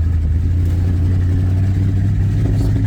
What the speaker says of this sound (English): No acceleration. Sputter, sputter, sputter, no acceleration.